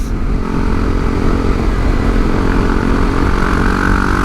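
A loud motorcycle engine drones steadily, its pitch rising gradually as it accelerates, with wind rumble throughout.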